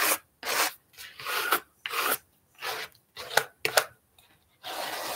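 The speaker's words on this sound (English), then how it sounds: "I'm gonna pull out my Bondo spreader." A Bondo spreader dragging filler across a surface in a crafts project, a series of short scraping, rasping strokes, close and fairly quiet, with brief pauses between each pass.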